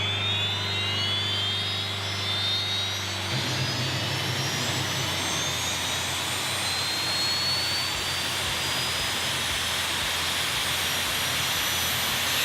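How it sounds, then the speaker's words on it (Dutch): A tractor pulling turbine engine runs loudly up close after starter disengagement, a low drone giving way to a roaring whoosh with a rising high-pitched whine that keeps building. "En dan uiteindelijk loopt de motor van zichzelf en kan de startmotor losgekoppeld worden."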